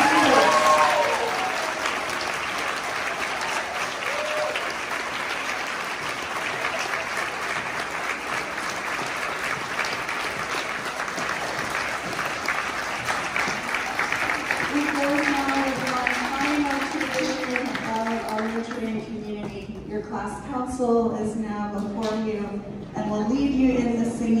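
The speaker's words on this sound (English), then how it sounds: "Please join me in a round of applause." Applause from a school audience at a junior class blessing, long and dense, sustained for about twenty seconds before fading as a voice begins speaking over the dying claps.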